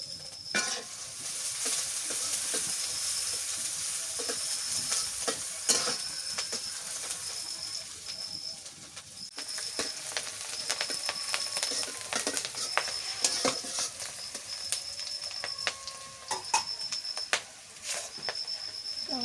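Bata fish fries with green chilies in a pan, a bright, continuous sizzle and hiss with scattered pops and crackles, close and steady with no voices.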